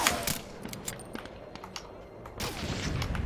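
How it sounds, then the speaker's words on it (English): Gunfire and explosions echo through the World War II shooter Medal of Honor: Allied Assault, heard as scattered distant shots and bursts over a low background rumble that swells toward the end. "What can I hear shooting in the background and explosions?"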